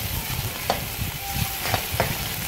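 Chopped onion fries in oil for a Sri Lankan-style cabbage dish, a dense near sizzle with a few soft stirring scrapes across a couple of seconds.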